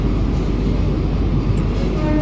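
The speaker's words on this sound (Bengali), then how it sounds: "আমাদের ট্রেন বর্তমানে দমদম জংশন রেলওয়ে স্টেশনে প্রবেশ করেছে" An AC local train on the Sealdah–Kalyani line rolls into Dum Dum Junction station, a loud, steady rumble and roar from on board that holds constant for the whole stretch, no voices.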